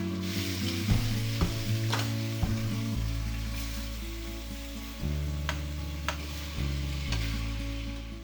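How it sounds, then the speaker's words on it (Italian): Steady sizzling and frying of meat braising in hot oil over high flame, with occasional clinks and knocks of a utensil stirring in the pot. "Facciamo andare a fiamma sostenuta, quindi facciamo brasare queste carni"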